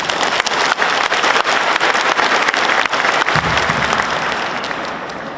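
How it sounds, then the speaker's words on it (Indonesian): A large crowd at a university graduation ceremony breaks into loud, sustained applause, thick and continuous with a few sharper individual claps standing out, before easing off slightly toward the end. "Tepuk tangan."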